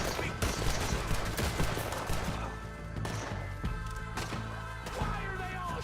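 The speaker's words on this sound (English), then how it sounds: "Why are they all shooting at me?" Gunfire in Red Dead Redemption 2 cracks out as scattered shots and volleys against a dense, steady game soundscape, with a faint voice underneath.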